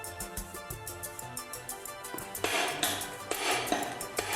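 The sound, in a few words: hide mallet striking engine crankcases apart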